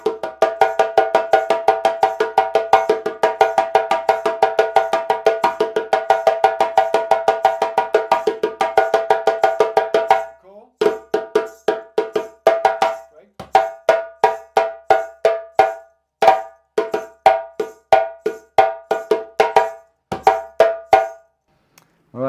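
A traditional Fakoly djembe rhythm from Guinea in its échauffement section: a fast, dense roll of sharp slaps and tones, followed by sparser, accented hits, played solo and close.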